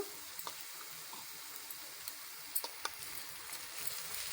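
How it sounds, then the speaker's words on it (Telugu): Ginger frying in oil for a chicken curry gives a faint, steady sizzle broken by soft crackles and a few light stirring clicks, quiet and close. "నూనెలో మంచిగా ఫ్రై కావాలి అల్లం కూడా."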